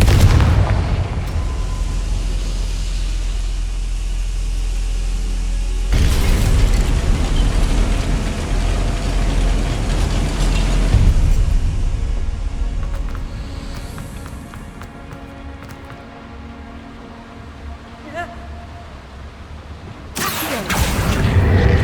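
A Confringo blasting spell in Hogwarts Legacy sets off loud, booming explosive bursts, with sharp blasts near the start and again near the end over a rumbling backdrop.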